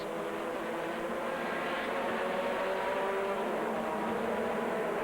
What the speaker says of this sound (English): This is indicative of a problem for Michael and Sebastian Bleekemolen's car, coming out through the pits.